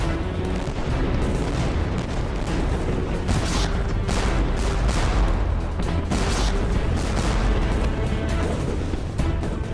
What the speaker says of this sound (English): Gradually, gunfire from the combined fleet builds to a steady thunder.